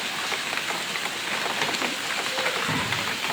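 Heavy, steady rain pours down outdoors on Eid al-Adha in Bangladesh, a dense continuous hiss of drops pattering on surfaces, loud and unbroken throughout with no voices.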